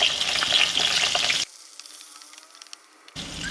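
Green chillies fry in hot oil for an egg gravy curry, a loud close sizzle that cuts off abruptly to near silence, then picks up again at the end.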